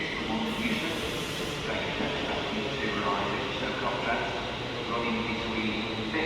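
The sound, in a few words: London Northwestern Railway train at Stoke-on-Trent station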